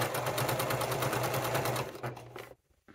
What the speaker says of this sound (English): it's hard for me to see because I'm sewing with white thread